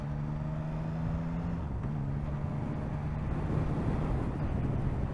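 A 2024 Yamaha MT-09 motorcycle is ridden with its engine humming steadily under wind rush, its pitch shifting briefly as the clutch is worked, with no talk over it.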